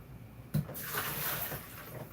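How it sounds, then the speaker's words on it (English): Water tipped out of a cooking pot while making homemade chicken patties, a sudden splash followed by a steady rushing pour that continues for a couple of seconds. "So now I throw the water out."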